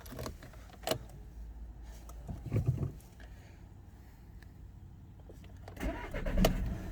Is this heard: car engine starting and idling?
yes